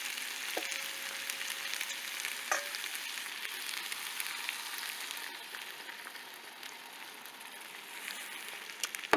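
Pasta all'assassina sizzles and crackles steadily in a hot pan as broth is added, a dense frying hiss with a few scrapes and clinks, close and continuous with no talking.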